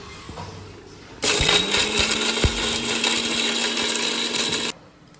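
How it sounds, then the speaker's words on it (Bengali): Blender grinding ingredients for morog polao, a loud whirring motor burst of about three and a half seconds starting and stopping abruptly, with quiet room sound before and after. "এখন আমি এটা ব্লেন্ড করে দেবো।"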